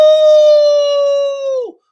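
A single sustained wolf howl sound effect, loud and clear, holding a steady pitch for over a second before sliding down and cutting off abruptly, with nothing else around it.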